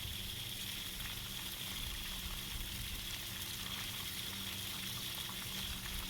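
Water gushing steadily out of a Ryobi 1900 PSI electric pressure washer with the pump switched off, a constant hissing, splashing flow at moderate level with no breaks.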